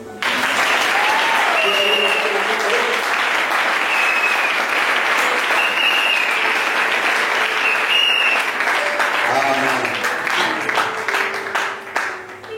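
A church congregation in Congo Brazzaville gives sustained, loud applause to welcome Pastor Mayala, dense clapping that runs nearly unbroken for several seconds before tapering off, with a voice faintly audible over it.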